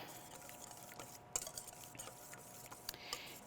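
A whisk works through a thickening shrimp dip with green onions in a bowl, faint quick scraping and tapping strokes in an uneven rhythm, close but quiet.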